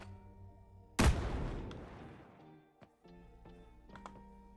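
A grenade explosion effect in a video game under development: one sudden loud blast with a long rumbling decay, followed by faint scattered clicks and small impacts as the sound settles.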